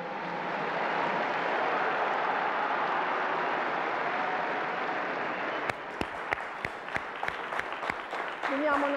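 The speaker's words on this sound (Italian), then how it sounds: "Veniamo naturalmente all'applauso e all'abbraccio della piazza per Papa Francesco" Crowd applause from the square for Pope Francis at the Sunday prayer, a broad sustained roar of clapping that gives way to a few near, sharp individual claps and faint voices toward the end.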